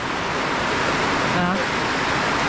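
A sudden downpour: a dense, steady hiss of heavy rain pours down, broad and unbroken, with a brief voice barely surfacing in the middle.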